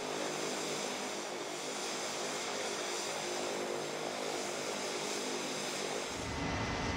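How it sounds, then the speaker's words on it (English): An MQ-9 Reaper drone's propeller engine drones steadily and evenly on the ground as it is readied for takeoff, a continuous broadband roar with no voices. "The maintenance crew prepares the aircraft and ensures it's ready to fly for up to 27 hours."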